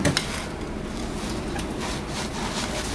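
Scraping and rubbing of a tool levered against a brake disc and old pad to push a caliper piston back on a 2006 Toyota Avensis, a steady gritty metallic friction up close, with no speech.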